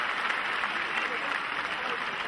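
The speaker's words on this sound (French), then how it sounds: "On les applaudit, s'il vous plaît." Applause at a karate tournament, the Masters 2010: a steady, dense wash of clapping from a hall audience, even and sustained with no pauses throughout.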